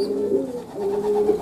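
A pigeon coos close by in two short, low, rolling phrases, with no speech.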